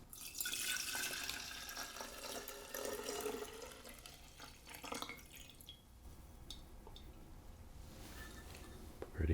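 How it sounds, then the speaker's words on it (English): Homemade spice-infused vodka is poured into a jar, a soft trickling and splashing stream with faint drips, quiet and close, easing off midway. "and we will pour into our jar here"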